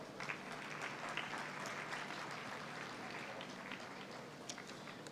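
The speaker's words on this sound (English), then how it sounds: "A huge round of applause." Sustained applause from a conference audience at an international gathering on world religions, a steady dense wash of clapping that fills the whole stretch, moderately distant with no voices over it.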